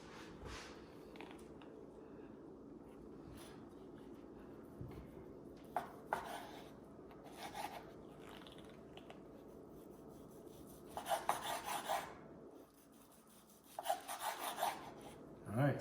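A knife slices through cooked tri-tip steak on a board, giving soft intermittent rubbing and rasping strokes with a few sharper taps near the end, faint and close with no talking.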